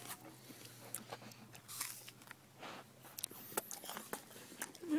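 Soft, irregular crunching and chewing of crunchy peanut butter come from close by, quiet and steady, with small clicks and smacks scattered throughout.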